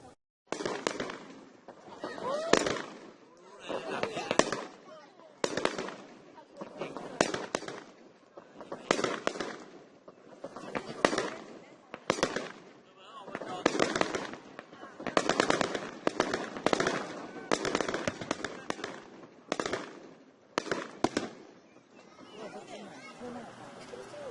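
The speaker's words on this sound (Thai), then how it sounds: "เราจะมาดูจุดพลุ เขาจะจุดพลุตอน2ทุ่ม45 นาที" Fireworks over Lake Toya, Hokkaido, at night crackle and pop in rapid, repeated bursts for a long stretch, dense clusters of sharp bangs at a moderate distance with faint voices underneath.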